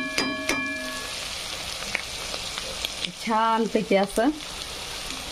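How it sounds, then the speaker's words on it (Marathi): Masala sizzling in hot oil in a pan while making masala pulao, a soft steady fry with a few stirring clicks, under a voice speaking briefly. "आपला सगळा मसाला फ्राय होत आहे। तेलामध्ये असा मस्तपैकी तळत आहे।"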